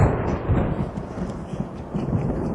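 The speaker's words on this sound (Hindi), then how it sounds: "झूठ बोलने से पहले ही बिजली कड़क गई" Deep thunder rumbling low and heavy, rolling continuously with uneven swells and no talk over it.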